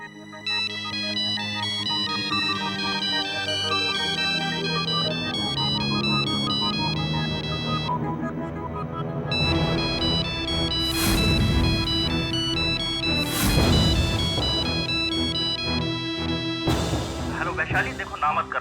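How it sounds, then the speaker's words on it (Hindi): A mobile phone plays a bright, repeating electronic ringtone melody, with a voice speaking over it partway through. "वैशु तुम्हारा फोन।"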